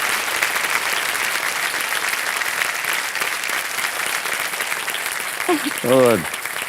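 A studio audience at a Shark Tank India quiz-style stage show applauds steadily and loudly throughout, with a brief voice cutting in near the end over the clapping.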